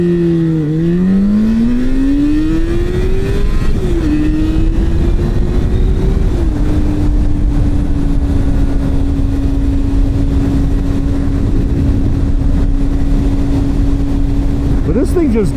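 A Yamaha FZ6 motorcycle engine pulls hard while riding, its pitch rising through quick gear changes then holding a steady drone under loud wind noise.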